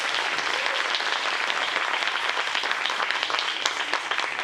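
A crowd applauds after a concert performance, a continuous roar of many hands clapping, fairly loud and steady from start to finish with no speech over it.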